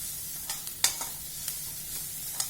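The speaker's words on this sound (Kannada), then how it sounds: "ಶುಂಠಿ ಬೆಳ್ಳುಳ್ಳಿ ಪೇಸ್ಟ್ ಹಾಕ್ತಾ ಇದ್ದೀನಿ" Fresh ginger garlic paste sizzles in a small amount of oil in a pan, a faint steady crackle broken by a few sharp scraping stir strokes, with no one talking.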